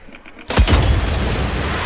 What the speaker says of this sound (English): I was expecting another grenade to go off